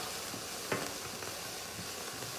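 Peppers and onions sizzle in a hot pan with a steady, close frying hiss and one brief clatter of stirring.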